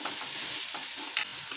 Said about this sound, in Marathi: छान असं आपल्याला हे ढवळून घ्यायचं आहे